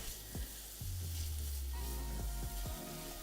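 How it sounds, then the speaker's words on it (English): Onions and celery cooking in a pot give a quiet sizzle, with low rumbling bumps and a few clinks from the pot as it is stirred. "We'll cook the onions down until translucent, and I always just go ahead and add my celery."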